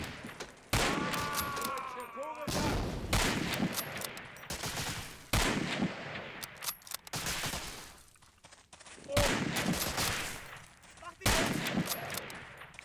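Heavy bursts of gunfire in the WWII shooter Medal of Honor: Allied Assault Spearhead, played on hard difficulty: several loud volleys of rifle and machine-gun fire, each lasting a second or two, separated by short lulls, with shouted voices heard between bursts.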